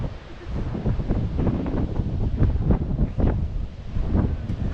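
Strong sea breeze buffets the microphone in steady gusts at the beach in Rhyl, North Wales, a continuous low roar with waves faintly beneath.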